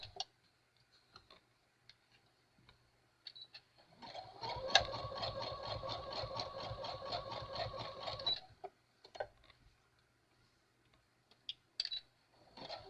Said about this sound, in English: And I sew at a slow speed when I'm going around curves.